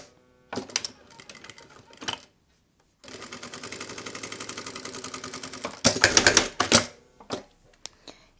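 A sewing machine stitches fabric for a cloth passport wallet, running in short bursts and then a longer steady rattling run, close and clear, with brief pauses and handling noises between.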